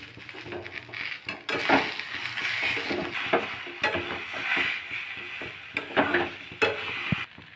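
Spiced potato filling for aloo paratha frying in a pan and stirred repeatedly, a soft sizzle broken by scraping strokes of a spatula against the pan in an uneven rhythm.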